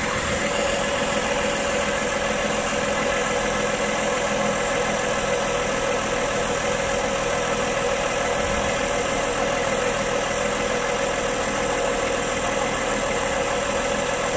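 A 2009 Toyota Aurion engine with a charging system fault idles steadily and evenly, a close, constant mechanical hum with faint ticking that continues unchanged throughout.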